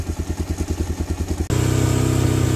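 Lexmoto Venom 125 motorcycle, a non-runner project bike needing carburettor tuning, idles close by with a loping, uneven pulse that cuts off abruptly and gives way to a steadier, denser engine drone.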